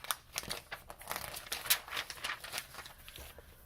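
Pictures being cut from a page of a September 2012 Vogue magazine, with close, repeated paper crinkling, snipping and rustling in an irregular rhythm.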